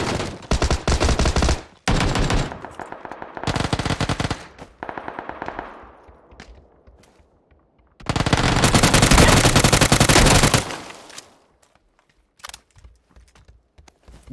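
A UMP submachine gun in an online shooter fires in long, rapid bursts, one of them sustained for several seconds, loud and close, with short single taps and pauses between the bursts.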